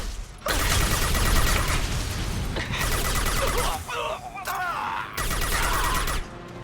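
Grenade blast and gunfire in the video game Mass Effect 2, a dense loud barrage of shots and booms running almost continuously, with brief synthetic chirps and a short lull in the middle.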